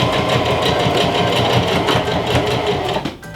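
Sewing machine stitching dress straps for a homemade Dorothy Halloween costume, a steady loud rapid mechanical whir with fine rhythmic needle pulses running throughout, then slowing and easing off near the end.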